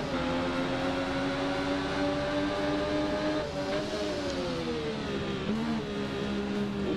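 Triumph Street Triple R motorcycle engine while riding, a steady droning tone that rises and dips as the throttle shifts, loud and close with no talk.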